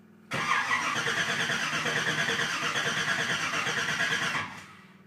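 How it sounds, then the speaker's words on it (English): A Chevrolet Impala converted to a five-speed fires up suddenly when the key is turned. The engine runs loud and steady for about four seconds, then shuts off. "I'm gonna turn the key over and just pray that I don't hear ting ting ting as it turns over"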